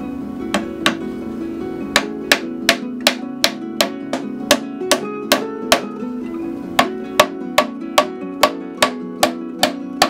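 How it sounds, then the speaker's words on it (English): Steady hammer blows join wooden pieces of a worm composting bin in a quick, regular rhythm, about two per second, with a short pause partway through and a low hum underneath. "now I'm just going to hammer these 2 pieces on"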